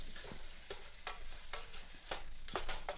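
Turkey sausage in a skillet being chopped and stirred with a meat chopper, a quiet sizzle under repeated scraping strokes, about eight close, rhythmic scrapes over a few seconds.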